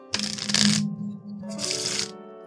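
Two bursts of a deck of playing cards being riffle-shuffled for a solo tabletop roleplaying game, each about a second long, with a steady low hum underneath; close and fairly loud, no talking.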